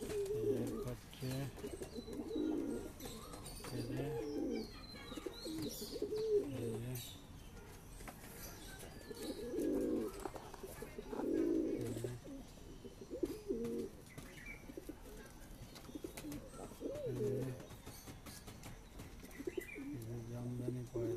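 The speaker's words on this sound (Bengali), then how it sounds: "জামদানি পায়রা" Jamdani pigeons coo in a breeding loft for high-flying birds, low throaty cooing phrases repeating every few seconds at a soft, moderate distance, with faint chirps and a little wing movement around them and a voice speaking.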